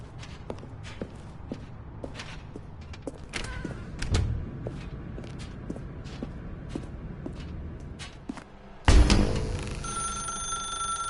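Footsteps tap steadily through a dim interior in the video game The Stanley Parable, then a loud telephone ring bursts in near the end and rings on, clear and close.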